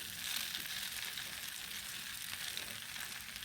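Rice noodles with garlic puree sizzle and crackle softly in a pan as they are stirred, a quiet, continuous frying hiss with faint scraping, no talking.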